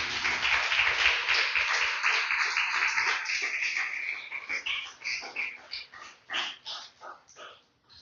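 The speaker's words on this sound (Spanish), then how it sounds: "Denle un fuerte aplauso al Señor" A church congregation applauds, dense clapping filling the first few seconds before breaking into scattered, thinning claps that trail off toward the end.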